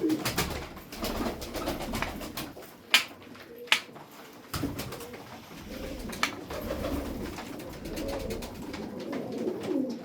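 Pigeons of the Sarıkır breed cooing nearby, soft repeated low coos over a gentle background with a few sharper clicks and flutters, no talking.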